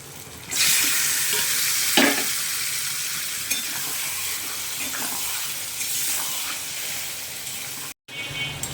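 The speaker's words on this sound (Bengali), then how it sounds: "লোটে মাছটা বারবার এরকম নাড়তে হবে, নাড়াটাই হচ্ছে কাজ" Bombay duck fish pieces are stirred into a spice paste of chili powder, garam masala and sugar in a pan. A strong, close sizzle bursts in and holds steady, broken by occasional spatula scrapes, then cuts out briefly near the end.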